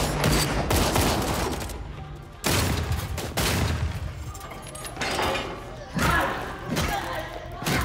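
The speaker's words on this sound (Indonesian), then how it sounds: "terjadi baku tembak antara anak buah Charles dan mereka" A film gunfight with repeated loud gunshot bursts and heavy impacts in irregular clusters, layered over a dense action soundtrack, with a voice speaking over it.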